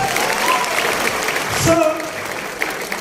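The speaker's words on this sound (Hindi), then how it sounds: "सबके लिए जोरदार ताली होना चाहिए" At a Qatar recognition night, an audience claps loudly and steadily for mentors. The dense applause is joined by a few voices and shouts partway through.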